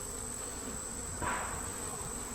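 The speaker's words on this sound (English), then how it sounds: "A lot of new bees on here as well." A close, steady drone of many honey bees buzzing together on a hive frame, a dense hum that swells briefly louder in the middle.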